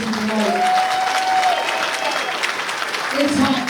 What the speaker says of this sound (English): Ladies and gentlemen of Yarmouth, give yourselves a huge round of applause.